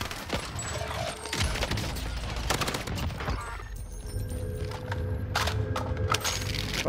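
Rapid gunfire from the video game Warzone crackles in dense, overlapping bursts, loud and continuous, with a few sharper reports standing out.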